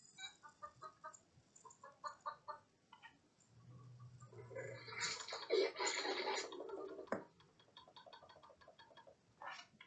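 Chicken clucks from a Roblox game, a few short irregular calls mixed in with other game sounds and effects, moderately loud with no talk over them.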